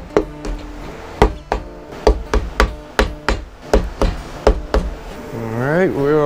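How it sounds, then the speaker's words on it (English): A rubber mallet taps on a 1974 Super Beetle IRS transmission, about a dozen sharp knocks in an uneven rhythm, close and fairly loud, ending with a short squeaky whine. "Got a rubber mallet."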